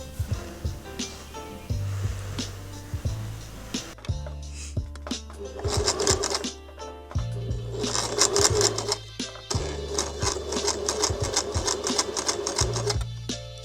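A sewing machine stitches a small tag onto a keychain purse in short repeated bursts of rapid mechanical clatter, separated by brief pauses and handling clicks, close and clear, with no talking.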